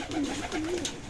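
Pigeons coo steadily in a pigeon loft, a soft warbling call rising and falling over a constant background hum, close by with no talking.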